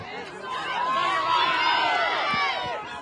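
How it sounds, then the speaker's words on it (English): Spectators at an under-14 youth soccer match on an outdoor field create a crowd din of cheering voices and shouts, steady and moderately distant with overlapping calls rising over the general noise. "You can hear this crowd."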